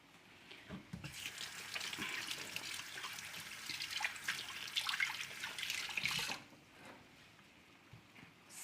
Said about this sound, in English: I'm just gonna wash my hand.